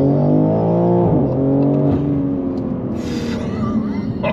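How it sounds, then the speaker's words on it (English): An Audi RS 4 Avant launches hard under launch control, its engine note rising loud and close as it accelerates through the gears, with a brief shift dip. "Left foot is hard down on the brake, right foot on the accelerator, preparing launch control"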